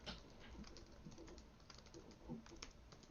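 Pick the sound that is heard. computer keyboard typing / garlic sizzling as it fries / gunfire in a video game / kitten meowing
computer keyboard typing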